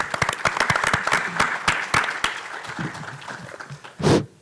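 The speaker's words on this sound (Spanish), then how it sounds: "Un aplauso, por favor, para el doctor Albarrán" An audience at a technology conference panel applauds a doctor with a burst of brisk clapping that thins and fades after a couple of seconds, followed by a short louder sound near the end.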